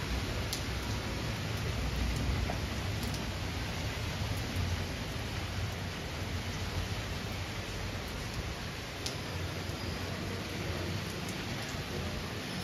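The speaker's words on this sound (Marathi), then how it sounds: "जोरात पाऊस आहे." Heavy rain pours steadily outside a house, a dense, unbroken hiss that stays loud and even from start to finish, with no voices over it.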